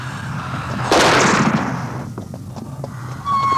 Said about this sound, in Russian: Тар, стреляй в нее